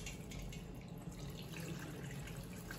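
Chile soaking water for enchiladas poured through a strainer, a steady close splashing trickle of liquid running without pause and no talking.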